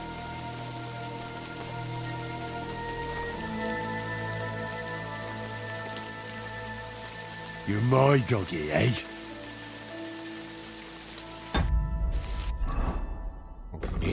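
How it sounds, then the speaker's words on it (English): Steady rain falls throughout a medieval game scene in Kingdom Come Deliverance 2, a continuous hiss beneath music, with a voice speaking briefly partway through. "It's raining."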